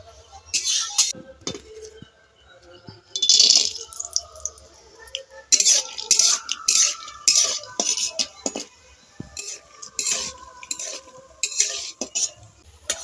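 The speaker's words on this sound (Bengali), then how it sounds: "আমি এখানে চীনা বাদাম নিয়েছি, বাদামগুলো ভেজে নেব" Peanuts are stirred in a wok of hot mustard oil: irregular bursts of spatula scraping and metallic clinks over a faint background sizzle, close by.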